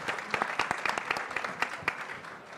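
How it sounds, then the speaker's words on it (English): A crowd at an entrepreneurship event applauding steadily, many hands clapping in a dense, continuous patter with a few sharper claps standing out, no voices over it. "And a round of applause for Julie."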